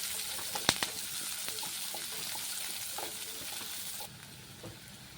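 Onions fry in a pan with a soft steady sizzle, a sharp clack near the start and light stirring scrapes, quieter for the last second, with no speech.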